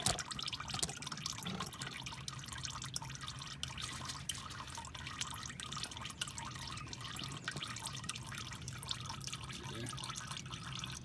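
Engine oil from a Nissan 2.5 draining out of the pan in a steady, faint liquid trickle with scattered drips, continuous throughout.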